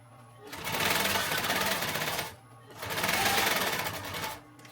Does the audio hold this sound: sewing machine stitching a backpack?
yes